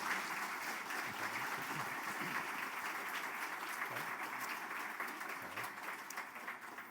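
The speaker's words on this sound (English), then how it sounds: "can we have a round of applause for our speakers in this session?" A conference audience applauds the session's speakers, a steady wash of many hands clapping at moderate distance, fairly soft and even throughout.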